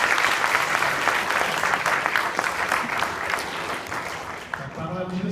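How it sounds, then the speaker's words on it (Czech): Audience applause after a student project presentation at a school event, a full, continuous round of clapping from a roomful of people that tapers off toward the end as a voice begins. "myslím, že si zasloužíte minimálně potlesk"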